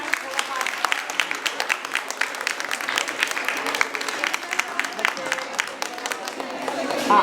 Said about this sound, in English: Claps must go on,